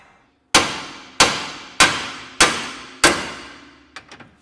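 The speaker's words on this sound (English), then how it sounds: "grab ourselves a nice big hammer and whack it right here on the steering knuckle side" Five loud, evenly spaced metallic hammer blows ring out on a car's steel steering knuckle during ball joint replacement, each clang decaying quickly, followed by a few lighter taps.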